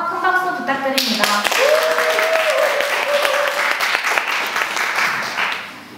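At a university academic culture festival, the audience applauds a student who sang a song of hope. A tonal voice fades out as dense clapping starts abruptly, continuing loud and steady before tapering off at the end.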